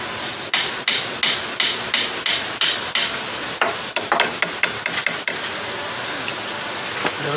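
Hammer tapping on a pot-metal part of a Johnson 20 hp outboard, a steady series of sharp close taps about twice a second that tighten into a quicker cluster before stopping, with no talk.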